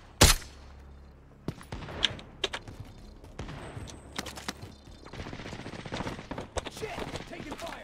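Bursts of automatic gunfire and scattered single shots crack through a multiplayer shooter video game firefight, loud and close at first, then in repeated volleys, with players talking over the action.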